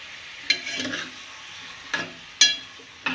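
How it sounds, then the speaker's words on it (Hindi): Chicken pieces for nihari stirred in hot cooking oil, giving a soft sizzle broken by a few sharp, close scraping strokes. "ऑयल में अच्छी तरह मिक्स करना है"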